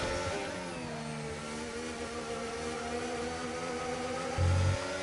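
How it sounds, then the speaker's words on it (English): Racing car engine in Project Gotham Racing on an Austria track, a steady loud whirring drone with shifting pitch as the traction control cuts in and holds the rear from spinning, with a brief thump near the end. "We just hear the full traction control, like wanting to spin the car out, but you can hear it just kicking in with him."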